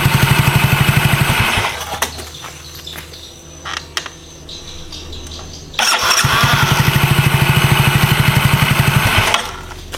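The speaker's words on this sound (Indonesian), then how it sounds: "jadi motor ini disetar dia langsung jreng, langsung nyangkut ya" A Yamaha automatic scooter engine sputters, cuts out briefly, then fires up again and settles into a loud, rapid idle, close by.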